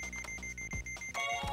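Electronic alarm in the surgery game Trauma Center: New Blood, a bright repeating beep pattern of short pulsed tones that grows fuller near the end, heard alone without talk.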